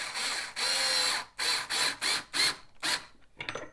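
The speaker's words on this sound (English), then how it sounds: "we're going to hold the screw with the screwdriver" Screwdriver turning a screw into a skateboard truck, giving a series of close, loud ratcheting bursts of several clicks each, separated by short pauses, with the last few fainter and more broken.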